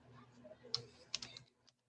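Quick bursts of keystrokes on a computer keyboard, a few close clicks and short runs of tapping over about a second and a half, then quiet.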